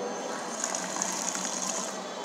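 A little water pours into a lab vessel during hydrogen gas preparation, a brief soft gushing trickle at moderate, even volume throughout.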